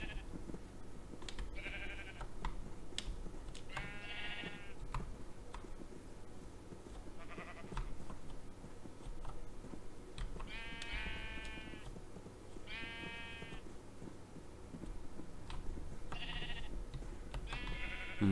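Several Minecraft sheep bleats come and go over a steady low background hum, some short and some drawn out, moderately loud with gaps between.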